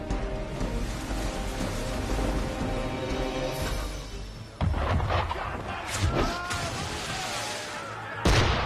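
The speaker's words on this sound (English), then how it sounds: "Why is he shooting at us?" Gunfire at sea in the video game Assassin's Creed III Remastered: sharp booming shots strike at several points over a dense, continuous game soundscape, with one heavy blast near the end.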